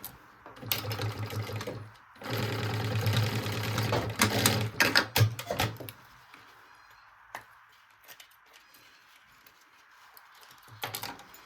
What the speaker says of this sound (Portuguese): E a gente faz um pesponto pra fixar esse regulador.